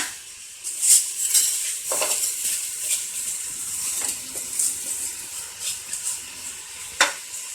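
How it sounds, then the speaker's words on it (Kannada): Soaked rice is stirred into a spiced mixture in a pot, giving scattered scraping clinks of a spoon against metal over a soft background hiss, with no one talking. "ಚೆನ್ನಾಗಿ ಮಿಕ್ಸ್ ಮಾಡಿ ಚೆನ್ನಾಗೆಲ್ಲ ಬೆರಿಬೇಕು."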